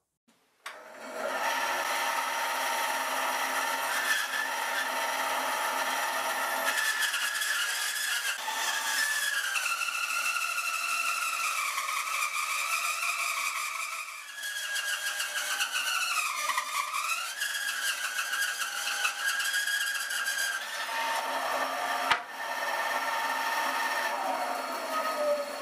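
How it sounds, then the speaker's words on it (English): A bandsaw rips a large lump of maple into two pieces for a guitar neck build, a steady, loud, continuous grinding whine with shifting pitch as the blade strains through the thick hardwood, stopping briefly partway through. "I'm going to get this over to the bandsaw and hopefully quite quickly get this ripped into 2"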